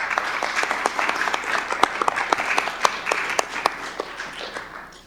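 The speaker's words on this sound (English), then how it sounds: "The audience may applaud." Applause from the audience at a Bellevue Chamber candidates forum: moderate, scattered clapping with distinct individual claps that thins out toward the end.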